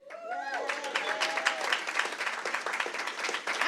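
Audience applause at a pharmacy ribbon cutting ceremony in St. Louis, a sustained wash of many hands clapping that swells quickly and holds steady throughout, with a voice speaking briefly at the start.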